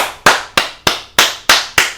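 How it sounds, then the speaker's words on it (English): Six sharp hand claps in an even rhythm, close and loud, with no talking, given as applause during a HeroClix podcast discussion. "I'm clapping it up for you for that."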